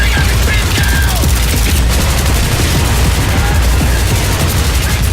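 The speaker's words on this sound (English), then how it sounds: "you will be like a destruction machine, even only with your carbine or machine gun" Dense, continuous automatic fire from carbines and machine guns in Battlefield 3 close-quarters combat makes a loud, unbroken rattle with rapid overlapping shots and no pauses.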